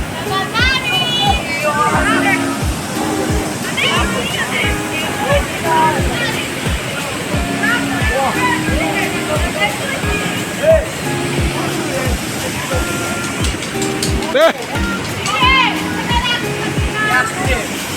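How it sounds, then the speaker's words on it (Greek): Rushing waterfall roars steadily throughout, with people chattering and calling nearby over the constant wash of water. "Waterfall, waterfall."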